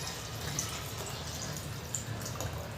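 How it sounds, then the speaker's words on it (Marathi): Water pours into spiced dal seasoned with turmeric, coriander-cumin powder and red chilli for methi dal, a steady close liquid splashing with faint drips, no voices. "आपण टाकतोय पाणी"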